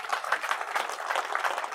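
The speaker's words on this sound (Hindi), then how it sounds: "बजाओ ताली" At a village gathering, a crowd claps together in quick, even applause at moderate volume, with no voices over it.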